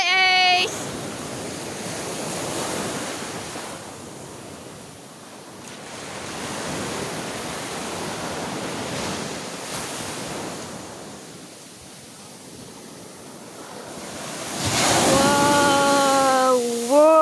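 Strong ocean waves break on the beach at Dolo Boulevard in loud, rolling surges that swell and fade in slow cycles, with wind rushing over the microphone. Faint voices and a brief squeal can be heard near the end.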